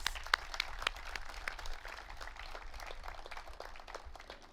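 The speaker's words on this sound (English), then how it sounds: "One more round of applause for them, please." Applause from an audience at a Veterans Day ceremony after a performance, a steady wash of clapping with a few sharper claps standing out near the start, moderately faint and even throughout.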